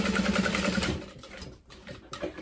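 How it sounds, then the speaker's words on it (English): Sewing machine stitching a tote pocket into the seam allowance, a close, continuous motor whir for about a second that fades into quieter handling noise. "And sewing it into that seam allowance."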